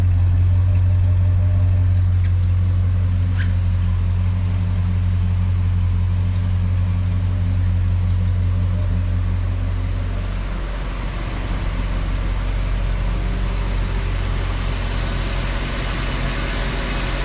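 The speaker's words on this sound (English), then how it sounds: "I don't like the sound of these old FE engines" An old Ford FE V8 in a 1966 Galaxie idles with a low, steady rumble, its tone shifting slightly partway through before settling again, close and without talk.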